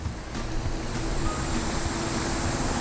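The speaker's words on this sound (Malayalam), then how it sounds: "നമുക്ക് ഈ മോട്ടർ വെച്ച് ഒരു 5 kg പ്രഷർ ജനറേറ്റ് ചെയ്യുന്നതുകൊണ്ട് ഈസി ആയിട്ട് മിസ്റ്റ് പോലെയുള്ള പർപ്പസുകൾക്കൊക്കെ ഇത് യൂസ് ചെയ്യാൻ പറ്റും." A loud, steady spray hisses continuously close by from a motor-driven pressure washer in mist mode at about 5 kg pressure, cleaning solar panels, a broad roaring mist of water with a low motor-like rumble underneath.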